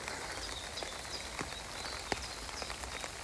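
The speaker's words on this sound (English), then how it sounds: "my umbrella's getting pounded by little raindrops" Rain patters steadily on an umbrella in a wood, a dense hiss of small drops with sharper individual taps scattered throughout, close and even, with no voices.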